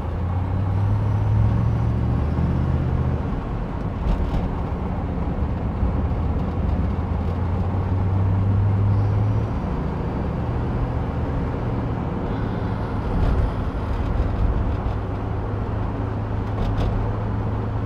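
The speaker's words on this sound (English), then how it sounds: "this is just a short drive down the freeway so you get an idea how it runs and drives" A 1955 Chevrolet Bel Air cruises down the freeway, its engine a steady low drone beneath constant road and wind roar, recorded from inside the car with no talking.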